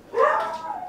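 Dogs indoors in a home give a single short, close bark that trails off within a second.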